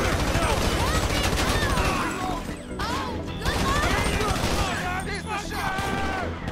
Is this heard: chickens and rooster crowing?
no